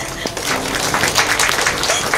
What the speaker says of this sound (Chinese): 现在请亲友再次掌声和见证